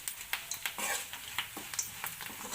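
Tempering spices fry in a pan for a steamed rice-flour dish, soft crackling sizzle punctuated by sharp spatula clicks and scrapes, close and fairly quiet.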